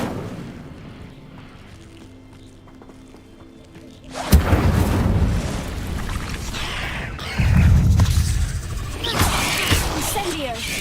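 Incendio fire spell cast in Hogwarts Legacy, bursting in a loud whooshing blast at about four seconds, followed by sustained roaring flame and a second surge near seven and a half seconds, over game music.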